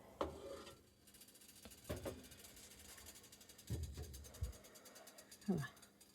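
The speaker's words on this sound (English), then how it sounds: "Stir that around a little bit." A utensil stirs egg drop soup in a cooking pot, giving several separate scraping, rubbing strokes at uneven intervals, quiet and close against a soft background.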